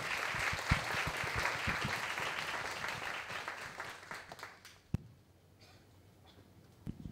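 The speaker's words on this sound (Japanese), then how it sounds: "拍手でお迎えください" An audience at a talk welcomes artist Daisuke Takeya with applause, a full, even wash of clapping that holds for about four seconds, then tapers into a few scattered claps and quiet room sounds.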